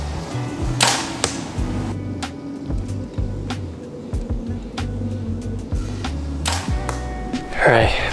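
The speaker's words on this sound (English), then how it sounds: "Let's check bare shafts at 30." A bow shoots bare-shaft arrows at 30 yards, giving several sharp snapping releases spaced a second or so apart over a low steady background hum, ending in a louder rattling clatter.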